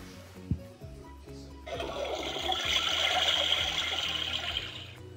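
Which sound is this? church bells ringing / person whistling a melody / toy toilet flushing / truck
toy toilet flushing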